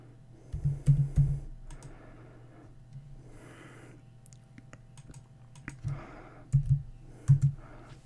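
Computer keyboard typing in short bursts of quick clicking keystrokes, close and moderately loud, separated by quiet gaps with faint breathing.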